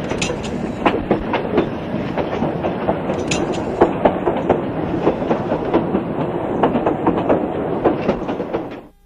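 A narrow gauge train rolls steadily along the rails in Colorado's Gunnison region, with a continuous loud rumble and sharp clickety-clack wheel beats, fading out at the end.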